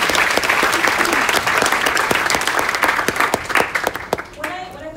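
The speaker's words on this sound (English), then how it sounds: "a big round of applause for Claudio." An audience at a ConsenSys and SydEth meetup applauds a speaker, with dense, close clapping that thins into scattered claps near the end as a voice begins.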